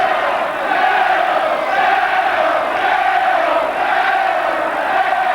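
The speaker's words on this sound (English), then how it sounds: "Excites the crowd indeed." A boxing crowd cheers and roars steadily at a 1986 professional bout in Manchester, Barry Michael versus Najib Daho, a loud, dense wash of voices swelling in waves throughout with no clear commentary.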